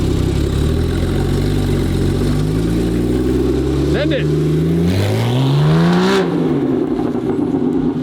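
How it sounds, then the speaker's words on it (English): A built 1300-horsepower Nissan GT-R engine revs hard in first gear, climbing in sweeping pitch over a steady loud roar, close and continuous, while people shout and talk over it. "Keep it in first, keep it in first. Rev it up higher and just rip around."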